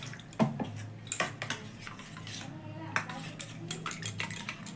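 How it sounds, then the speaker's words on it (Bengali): A spoon clinks and scrapes in a bowl while chili sauce and soy sauce are mixed with a little water, several sharp metallic taps and swirls close by, quiet overall. "এটি একটু জল দিয়ে গুলে রাখবো"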